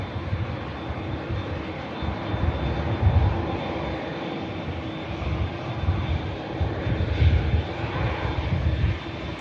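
Airliner rolling out after a slightly wobbly touchdown at Manchester Airport, a steady distant engine rumble with swelling surges of reverse-thrust noise, no voices.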